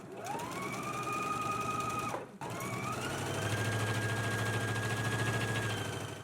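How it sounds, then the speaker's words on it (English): A sewing machine stitches the front opening and neck edge of a collar in a long steady mechanical whir, with one brief stop before it runs again at a constant speed. "So let's go ahead and stitch the front opening edge and the neck edge, keeping this pressed edge free."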